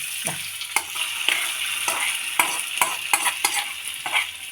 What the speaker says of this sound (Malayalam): കടുകും ഇതാ വെളുത്തുള്ളി ചുവന്ന മുളക് കറിവേപ്പില എല്ലാം കൂടി ഇതിലേക്ക് വറുത്തിടുകയാണ്